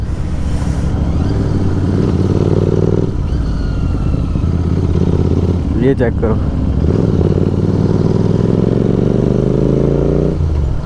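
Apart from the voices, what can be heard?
group of motorcycles riding together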